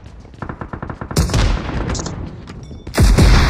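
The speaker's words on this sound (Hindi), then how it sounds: "शॉटगन है, शॉटगन है।" Shotgun fire in the BGMI mobile battle royale game: a series of rapid gunshot bursts, loud and close, with a heavier blast near the end over game ambience.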